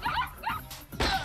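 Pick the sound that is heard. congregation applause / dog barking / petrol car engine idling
dog barking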